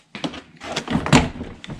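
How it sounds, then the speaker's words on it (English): Plastic door panel of a Nissan NV200 work van being set onto the door from the top, giving a few hollow thunks and rattles in quick succession, close and fairly loud. "I'm going to set the door panel on the top, putting it so it goes down inside the door first."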